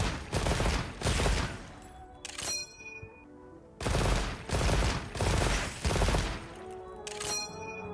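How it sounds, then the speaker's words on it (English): Bowgun reload in the video game Monster Hunter Wilds, modded with an M1 Garand sound, heard as several loud, crisp mechanical bursts in two clusters with a metallic ring between them and no voices. "You have sound replacers for both the light bowgun as well as the heavy bowgun, replacing the reload sound with a M1 Garand."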